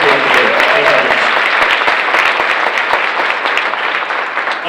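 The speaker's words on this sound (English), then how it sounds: "So a round of applause for those individuals there." Concert audience applauding at a school band Christmas concert, steady loud clapping from a full hall that holds evenly for several seconds with faint voices underneath.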